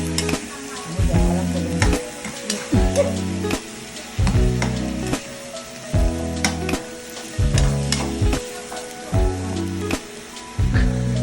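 Cabbage stir-fried in a pan for bihon noodles sizzles loudly, broken by a steady rhythm of scraping stirs, with music running beneath.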